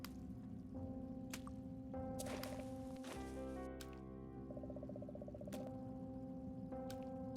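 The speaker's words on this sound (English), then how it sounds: "I hear the drip." Slow liquid drips in the video game Goosebumps: The Game, wet drops falling at irregular intervals over a steady droning ambient hum, with no talk.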